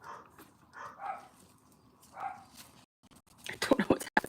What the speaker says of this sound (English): Good Lord, I have no idea what's going on with my dogs.